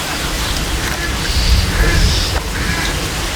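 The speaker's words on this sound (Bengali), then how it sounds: "হঠাৎ করে অনেক বৃষ্টি এবং বাতাস" Heavy rain and gusting wind sweeping over a farming village, a steady dense hiss with low rumbling swells that rise and fall, loud and unbroken throughout.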